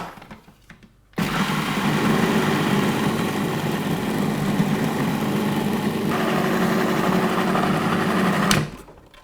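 A blender whirs steadily as it grinds buckwheat cracker mixture with salt into a spreadable paste, starting abruptly after a short quiet moment and running loud and continuous before cutting off near the end.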